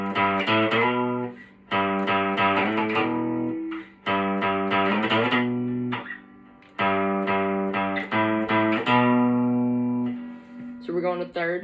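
Distorted electric guitar chugs through a punk-style riff in power chords, loud and close, in repeated strummed phrases with short breaks between them.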